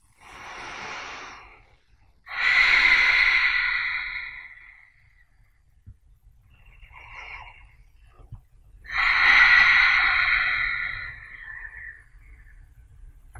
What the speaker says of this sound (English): Let's take 3 full breaths here